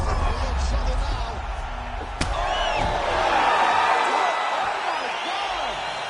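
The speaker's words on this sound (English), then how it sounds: "crowd loving it" A crowd roars and cheers at a live MMA event, the Ankalaev vs Prochazka card, right after a fight-ending strike, loud and sustained beneath excited commentary.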